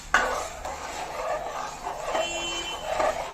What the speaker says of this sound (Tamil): அந்த கரைச்சி வச்சுருக்க மாவு அதில் சேர்த்துடலாம் எந்த அளவுக்கு மாவு இருக்குன்னு பார்த்துக்கணும் நல்லா அடி பிடிக்க விட்டுறாமல் நல்லா கலந்து விடுவோம்